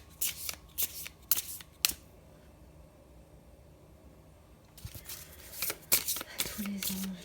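Tarot-style cards shuffled and drawn during a spiritual card reading: several crisp riffling bursts, a quiet pause, then more shuffling and handling of the deck, close and fairly soft.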